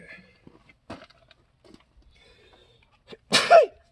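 A single sharp sneeze bursts out after a stretch of quiet handling noises and small taps, loud and close.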